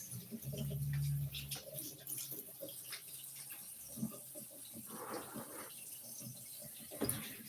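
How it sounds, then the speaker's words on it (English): Running tap water splashing over vegetables being washed clean of sand in a home kitchen, a steady broadband patter with occasional louder splashes and clunks throughout. "You just see how you wash it all through with the running water."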